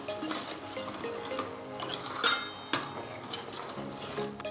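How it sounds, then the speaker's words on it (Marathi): Masala is sautéed in oil in a pan, heard mostly as quiet metallic clinks and scrapes of a spoon against the pan, with one sharper clack and only faint frying underneath. "हा मसाला जो आहे छान परतून घ्यायचा आहे"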